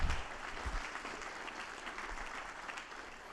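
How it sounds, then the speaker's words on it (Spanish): An audience at a Spanish-language gospel sermon breaks into applause, a steady crackling roar of many hands, fairly faint and distant, strongest at the start and holding evenly to the end. "¿Puedes dar un fuerte aplauso?"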